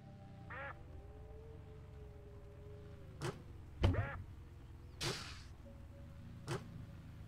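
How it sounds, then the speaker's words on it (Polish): Short quacks from a duck stuck on a pier in a video game, several spaced calls sounding over a low steady background hum, with a few sharp louder bursts between them. "Gdzieś mi się kaczka na pomoście zablokowała."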